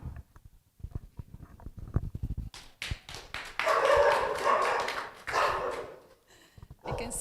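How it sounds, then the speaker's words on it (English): A dog barks in a series of sharp, close barks in a lecture hall, followed by a longer burst of broadband noise like applause or crowd commotion, then more scattered barks. "I can see that the dog is welcoming everybody."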